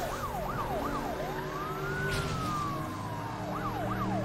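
Police car siren in the Need for Speed racing game, wailing steadily up and down, with one long slow sweep in the middle, over continuous engine and road noise.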